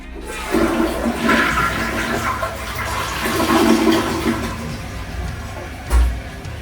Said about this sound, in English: I'm gonna flush it a few times throughout a few days and make sure there's no water leaking through it